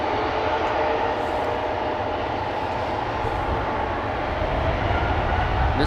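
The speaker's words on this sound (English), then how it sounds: "Air France flight 1241. Going to Paris, it's a Bombardier C-Series 300 aka A220." An Air France Airbus A220-300 jet departs Amsterdam Schiphol with a steady, moderately distant engine rumble and rush, even in level over a few seconds, with no clear talk.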